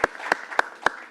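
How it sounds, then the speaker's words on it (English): A few sharp hand claps at a board meeting, evenly spaced and fairly close, with a quiet room between them. "So I just want to give him a big round of applause."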